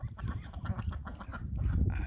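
Ducks and geese, kept as pets in a garden, honking and quacking repeatedly in a close, busy chorus of overlapping calls.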